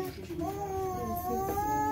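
A cat meows in a home decorated for Christmas, a wavering, drawn-out cry with rising and falling pitch that carries over soft background speech and household movement.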